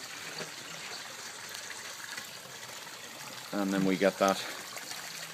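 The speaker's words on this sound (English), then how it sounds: "third sound that you wanted, which was water flowing over rocks." Water flowing over rocks beside stairs above a weir, a steady close trickle and splash running throughout, with someone talking briefly over it near the end.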